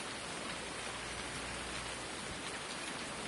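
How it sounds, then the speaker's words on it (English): Dense, steady rainfall in a farming video game, a loud continuous hiss of drops on surfaces that holds evenly throughout with no voices. "I can get rid of this rain, because it is really loud in my headset"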